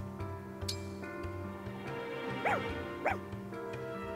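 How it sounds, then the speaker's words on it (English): A dog barks twice in Fire Emblem Engage, short game-sound barks over a steady, layered music bed with soft ticking, no speech. "Ah, oh, another dog."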